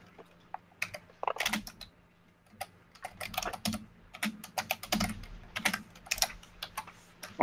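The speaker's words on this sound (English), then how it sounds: "Or I'll just copy what you're typing." Computer keyboard typing in a close indoor setting, with irregular bursts of quick, sharp keystrokes and short pauses between them, and no voices.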